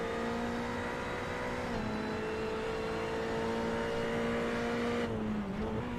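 A Ferrari race car heard from onboard in the iRacing sim, its engine holding a steady loud drone with slight pitch dips as it shifts and lifts, continuous and close with no talk.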